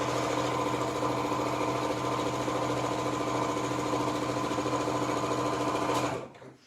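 A sewing machine hums steadily and close at high speed while stitching a circular gathered cushion, one unbroken run that stops abruptly near the end.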